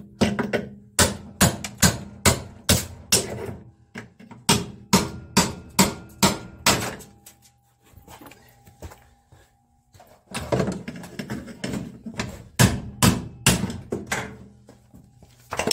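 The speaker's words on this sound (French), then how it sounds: "un marteau, un burin, et puis c'est parti." Hammer striking a chisel against an electric motor being broken down for scrap copper and aluminium, loud rapid metallic blows in bursts with a short pause between runs, close and alone.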